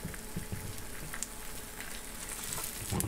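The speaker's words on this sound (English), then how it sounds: "Threw a couple fried eggs on, and let's see, do they slide?" A couple of eggs fry in a Pioneer Woman cast iron skillet, giving a soft, faint, steady crackling sizzle with occasional small pops throughout.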